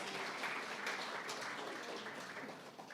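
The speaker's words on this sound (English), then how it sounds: "Now that's the time to clap." An audience at a central bank governor's annual monetary policy statement claps steadily, a dense wash of applause filling the whole moment at moderate volume.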